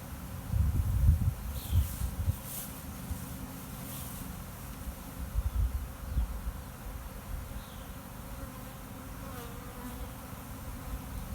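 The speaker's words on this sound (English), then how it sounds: "the bees should start fanning if she's inside the box" A honeybee swarm fans and settles at a hive box near a small redbud tree, giving a continuous dense buzzing hum with louder passes of individual bees and some rustling, alone with no talk.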